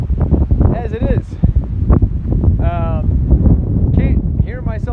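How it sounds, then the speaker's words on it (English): Strong 50-60 mph wind roaring through a gulch, heavy low rumble and microphone buffeting throughout, with scattered bird calls and sounds over the gusts. "it's windy as hell"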